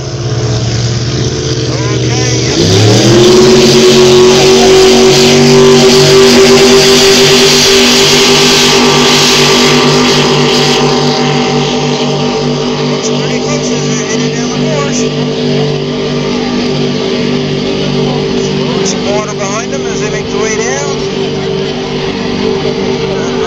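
Two racing boats, Half Throttle and The Blur, roar side by side in their lanes. A loud, close engine drone climbs sharply in pitch after a couple of seconds, then holds a steady, powerful howl for about twenty seconds.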